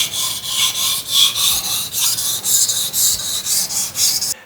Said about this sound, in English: I've now sharpened one side of this knife using the 1000 grit stone